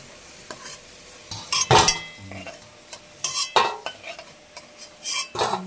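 Banana flower stirred and fried in a pan: a metal spatula scrapes and clinks against the pan in irregular bursts over a soft, continuous sizzle, close up with no talking.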